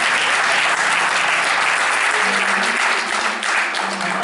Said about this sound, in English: Will you clap your hands and give God a praise and God?